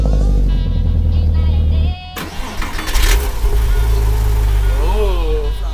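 A Can-Am Maverick X3 side-by-side with a 230-horsepower engine cranks and fires on a cold start, catching with a loud burst and settling into a steady, close rough idle, with people talking over it.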